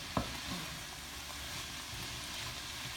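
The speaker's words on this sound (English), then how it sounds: "after we let that simmer just for a little bit, it's almost half cooked" Bok choy cooks in a pan with a steady, close sizzle, and a brief clatter of stirring comes near the start. No one speaks.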